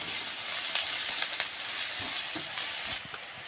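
Onions with a little turmeric sizzle and fry steadily in a pan, with soft scraping stirs breaking through the continuous hiss, close and fairly loud.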